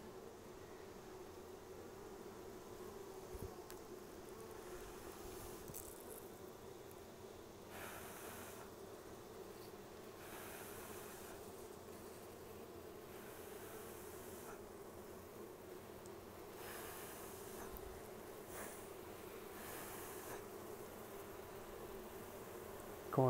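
Honey bees buzz at an open hive during a honey harvest as fume boards clear the honey super, a faint, steady hum running throughout with a few soft knocks and bumps.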